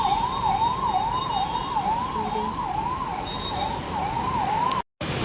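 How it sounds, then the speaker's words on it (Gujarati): A wailing ambulance siren rises and falls repeatedly at moderate distance over steady traffic noise, cutting out abruptly near the end. "એમ્બ્યુલન્સ જાય."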